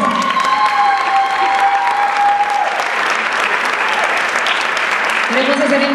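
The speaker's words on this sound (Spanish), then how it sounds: "Un aplauso para ti. Un aplauso." Audience at an award ceremony applauding, dense sustained clapping filling the room, with a voice speaking over it at the start and end.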